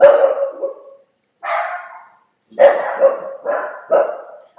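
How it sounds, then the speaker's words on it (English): Dogs indoors bark at a window in a run of loud, close barks, one long bark then a pause followed by several quick barks in succession. "They just look out the window and bark."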